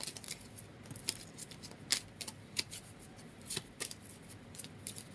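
A deck of oracle cards is shuffled by hand close up, giving soft, quiet riffling and rubbing with irregular sharper slaps over several seconds and no talking.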